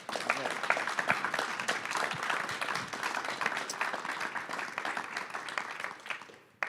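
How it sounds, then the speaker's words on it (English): Audience applause for panelists at an evening college business session, a steady dense wash of clapping close by that holds for several seconds before tapering off at the end. "can we please get a round of applause for the panelists up here"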